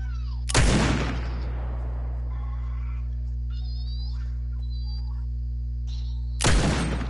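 Two loud, sharp gunshots in Fortnite, one early and one near the end, each a hard crack with a brief tail, over a steady low game hum and faint interface tones.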